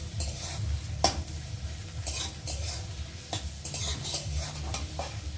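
Onions frying in a pan give a steady broadband sizzle with repeated scraping stir strokes and one sharp utensil clack near the start, with no talking.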